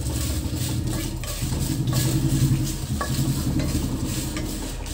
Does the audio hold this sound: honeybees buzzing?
no